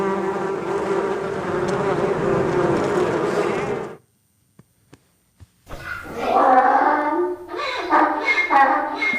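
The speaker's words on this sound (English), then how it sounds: "Oh, this swarm of bees." A swarm of bees buzzing in a dense, loud drone for about four seconds before cutting to near silence with a few faint clicks, then a different animal call follows.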